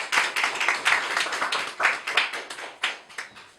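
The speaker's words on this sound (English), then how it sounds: "give him a round of applause" A burst of hand clapping from a small group at a question-and-answer session, brisk and uneven, filling the moment with no voices.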